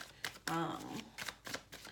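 Tarot cards are shuffled by hand in soft, quick riffling bursts, faint and close, under a person talking.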